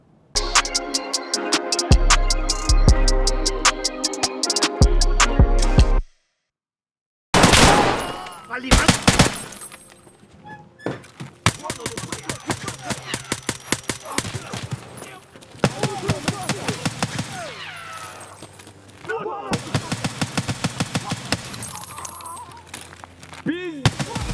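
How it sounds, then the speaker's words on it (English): An Adar rifle fires in Escape From Tarkov in loud rapid bursts and single sharp cracks, broken by a brief silent gap, with overlapping gunfire and clatter throughout. "The Adar is a great gun."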